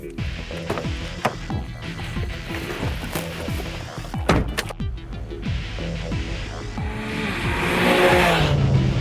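Porsche 911 sports car driven on track at Anglesey, engine note repeatedly rising and falling through quick revving shifts, with a brief tyre squeal and a louder surge near the end.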